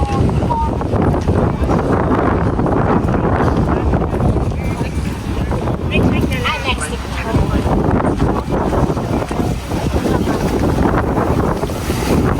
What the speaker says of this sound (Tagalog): ang una niyo mapapansin dito yung malakas na hangin